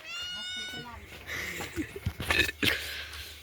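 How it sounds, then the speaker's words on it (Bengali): A cat gives one drawn-out, falling meow at the start. Close-by people then talk and make throat sounds. "আপনাদের বিড়ালটা দেখুন, খুব কিউট বিড়াল।"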